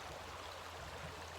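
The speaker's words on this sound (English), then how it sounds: "I'm in the forest, and the river is right here." A forest river flowing, a steady broadband wash of running water, continuous and even, without any talk.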